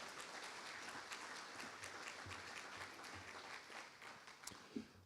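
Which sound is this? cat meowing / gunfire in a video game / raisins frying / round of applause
round of applause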